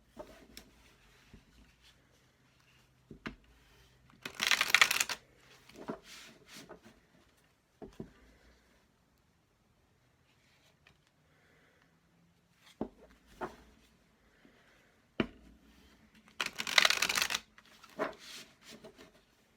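A deck of playing cards is shuffled by hand in two quick bursts of crisp riffling, separated by quieter rubbing, tapping and handling noises in a calm room.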